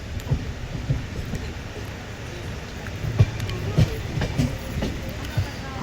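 A passing train hauled by a diesel locomotive on the Sabari Express route, heard from on board as a steady rumble with rhythmic clickety-clack wheel thumps, moderately loud.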